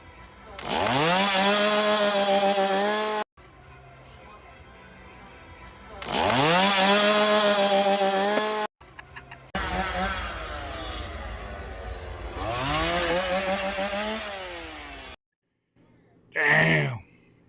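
Chainsaws revved by Chainsaw Clowns at Halloween Horror Nights in Orlando, several loud rising engine bursts that climb and hold, separated by short idle gaps, ending with a brief sharp shout.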